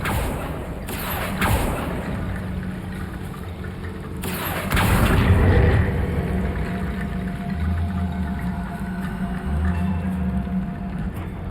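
Bombarda and Confringo explosion spells in Hogwarts Legacy go off as a few sharp booming blasts, the heaviest pair near the middle, over a steady rumbling game background.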